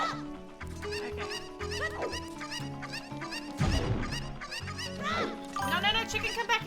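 Chickens cluck repeatedly in a Zelda game (an Ocarina of Time and Majora's Mask randomizer), with busy, bright calls scattered over layered game sounds and a constant background.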